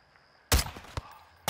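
Sniper rifle fire at a prison tower in Call of Duty: Modern Warfare II: one sharp, loud report followed by two quicker, fainter cracks within a second and a half.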